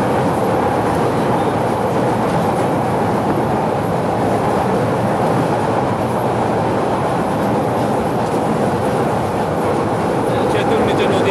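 A train rolls across the Jamuna railway bridge, a double-track span over the river, with a steady, loud rumble of wheels and carriages lasting throughout and no speech.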